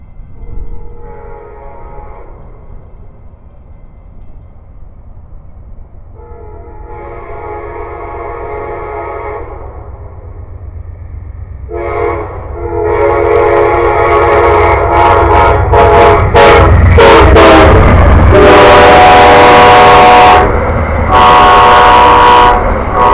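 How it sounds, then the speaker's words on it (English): A train rumbles past, growing louder as it nears, with a blaring horn and rattling wheels building to a loud, sustained roar. "There it goes, another train."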